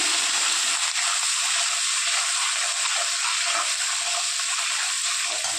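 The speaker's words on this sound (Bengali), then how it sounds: "আদাটা ছেটকাবে তেলের মধ্যে" Ginger paste with turmeric and a pinch of salt frying in hot oil in a pan, giving a steady, close hiss and crackle that runs without a break and without voices.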